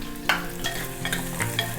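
Small and large cut onions sautéing in oil in a pan, a steady close sizzle broken by several distinct stirring scrapes of a utensil, with no voices.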